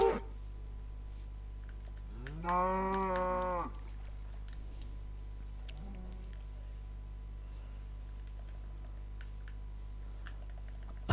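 One Minecraft cow moo rises and falls clearly for about a second, followed by a much fainter low grunt and long quiet stretches of steady in-game hum and light ticks, without speech.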